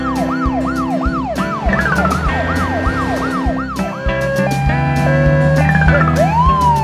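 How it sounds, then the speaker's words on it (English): Japanese police car siren wailing loudly and close, a repeating rising-and-falling sweep that switches midway to steadier alternating tones, with traffic noise underneath and no talking. "Japan, police car."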